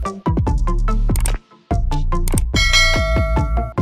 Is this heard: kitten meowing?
no